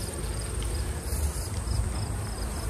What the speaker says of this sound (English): We've got a cluster of bees in the middle between those two frames.